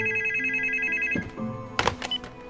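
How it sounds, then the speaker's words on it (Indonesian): An old landline house telephone rings with a loud, steady electronic trill that stops abruptly, followed by a few clattering handset sounds close by. "Seseorang tiba-tiba menelpon ke telepon rumah itu."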